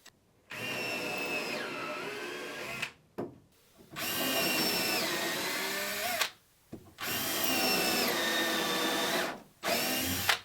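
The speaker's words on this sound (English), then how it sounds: "You'll notice I almost always drill these holes in several steps, and that's to clear chips out." A power drill bores fastener holes into wooden thwart risers for a Catalina Wherry boat build, four loud, close bursts of whining motor, each lasting a few seconds, separated by short pauses as the bit is backed out to clear chips.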